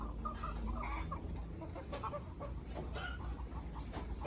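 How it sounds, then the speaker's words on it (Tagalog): Decaled white chickens cluck softly at close range in a small egg-laying flock, with repeated short clucks over a steady farmyard background and no speech. "Mga alaga kong decaled white na manok."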